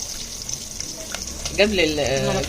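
Native ghee and oil fry in a pot for a molokhia tasha, making a steady, close sizzle. A voice starts speaking over it near the end.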